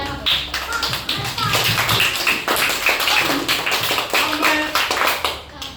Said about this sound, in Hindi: पूरा ताली बजा दो बच्चों